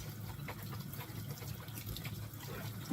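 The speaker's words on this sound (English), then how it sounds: "I got this rinsed off pretty much" Cabbage being rinsed under running water, a steady, fairly faint stream with soft splashing and trickling, heard alone.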